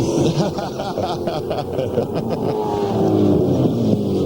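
V8 Supercar race cars at Queensland Raceway in the 2000 Shell Championship Series roar past with loud, steady engine drone and rising revs, heard under a race commentator's talk.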